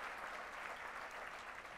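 Audience applause at an annual charity dinner, a steady, dense round of clapping from a large room that carries on unbroken throughout.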